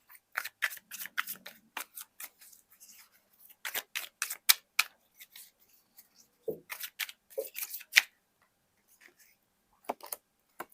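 A tarot card is drawn from the deck, its crisp papery snaps and shuffling flicks coming in quick irregular bursts, close and fairly quiet, with brief pauses between.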